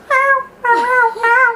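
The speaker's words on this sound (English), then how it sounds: "Maybe we can get him to meow." A tuxedo cat meows three times, close and loud, each drawn-out cry separated by short pauses.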